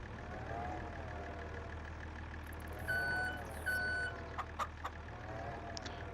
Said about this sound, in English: That's a fork truck.